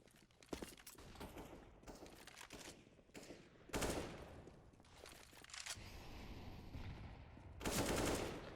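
Rapid bursts of gunfire from an ESEA Counter-Strike match between Vertigo Gaming and Drakan, several loud volleys of automatic fire cracking out in clusters, with the heaviest bursts near the middle and end.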